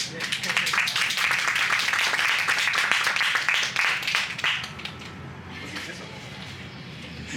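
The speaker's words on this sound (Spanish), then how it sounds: "Así que otro aplauso para ella" An audience at a book launch applauds in a dense, steady burst of clapping that fades after several seconds into quieter room sound and a voice.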